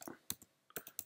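Typing a terminal command on a computer keyboard: several sharp, close key clicks in quick uneven bursts, with short gaps between the groups of keystrokes.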